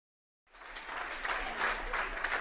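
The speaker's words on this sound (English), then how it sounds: "that applause you hear is for Eau Claire catcher Jack Harris" A crowd at a Legion baseball game at Carson Park applauds an injured Eau Claire catcher, the clapping swelling steadily after a moment of silence and heard from a distance, fairly faint.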